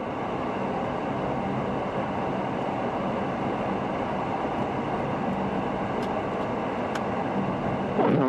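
A semi truck speeds past on a wintry New York road during lake-effect snow, a steady loud road roar and rumble of tires and engine throughout, swelling slightly at the very end.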